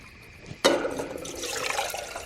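Water pours from a cup at an overnight campsite, a sudden splash at the start then a steady rushing, gurgling stream that runs on close by, with no talking.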